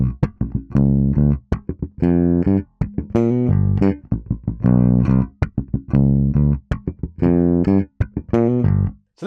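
A solo electric bass plays a longer groove, weaving slapped snaps and muted dead-note clicks between ringing sustained notes in a tight, repeating syncopated pattern, heard clearly and up close.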